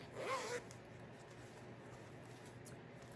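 A zipper on the back pocket of a handmade knitting bag is pulled once in a quick, close rasp lasting about half a second, then a quiet room tone with faint rustles follows.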